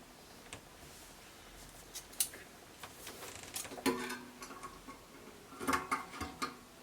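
Scissors cut kaftan neckline fabric in quiet, irregular snips and light rustles, close by and faint, with no talk.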